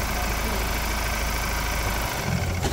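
A Ford Ranger T9 with a 2.0 twin-turbo diesel engine idles with a loud, steady, rough clatter close by, and someone speaks over it.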